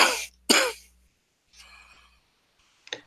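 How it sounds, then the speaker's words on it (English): A bad cough: two sharp, loud hacking bursts close together, then a softer raspy throat-clearing. A brief faint cough follows after a pause. The sound is close and there is no talking. "You seem to have a very bad cough, friend."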